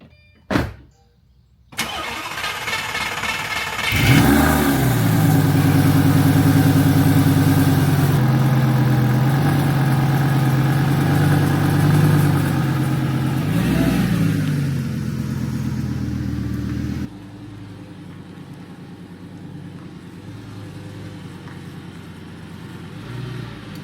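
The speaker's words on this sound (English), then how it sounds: "Enjoy this cold start of a 2006 Lamborghini Gallardo." A 2006 Lamborghini Gallardo cold-starts with a loud starter crank and bark, then settles into a high, steady idle that drops to a calmer, quieter idle near the end, heard up close with no talking.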